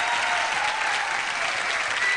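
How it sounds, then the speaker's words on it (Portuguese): Studio audience of a Brazilian TV talk show (Jô) applauding steadily, a dense, even wash of clapping held at full strength throughout with no talk over it. "Palmas pro show, gente."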